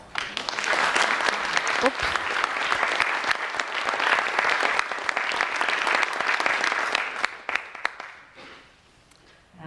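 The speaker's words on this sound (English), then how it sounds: "give a round of applause" An audience at an evening event about Wages For Housework and #MeToo gives a round of applause, a dense, sustained wash of many hands clapping for several seconds before thinning out to a few scattered claps.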